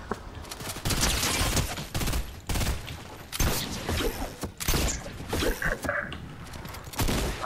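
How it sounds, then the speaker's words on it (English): Rapid bursts of gunfire from a Fortnite match crackle almost continuously, loud and dense with short gaps between volleys, with no talking over them. "We're getting shot at from somewhere this way."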